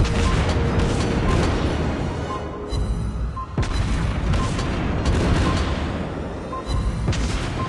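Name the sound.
torpedo hits on enemy ship, World of Warships Blitz video game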